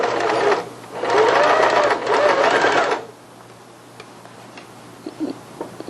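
A sewing machine stitches a child's strappy sleeveless dress in two loud, steady bursts of rapid mechanical whirring, then stops, leaving faint ticks and small handling clicks.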